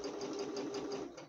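Sewing machine backstitching on a patchwork cotton dish towel, a fast continuous rattling hum with rapid needle ticks, close and steady for just over a second.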